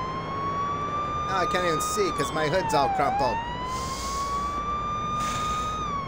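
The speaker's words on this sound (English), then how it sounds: "I turned my siren on." A police car siren wailing in the video game Police Simulator, a loud steady up-and-down wail running throughout while someone talks over it.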